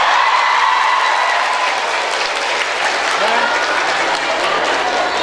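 A student audience claps steadily for a money-multiplying magic trick, a continuous wash of applause with faint voices and a brief murmur near the end.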